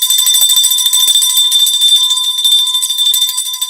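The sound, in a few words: bell ringing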